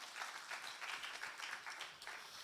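A church congregation applauds together at a Friday evening worship service. The clapping forms a continuous, dense patter that sounds fairly distant and soft, with no talk over it.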